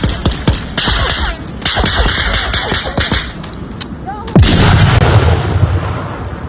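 A grenade goes off at an outdoor shooting range amid a string of sharp gunshots, a heavier blast landing near the end and rumbling on, with faint voices in the background.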